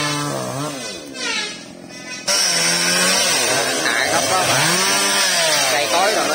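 A Stihl 381 chainsaw engine roars steadily up close while felling a tree, its pitch rising and falling as it bites and revs, a brief lull near the start before it runs at full power.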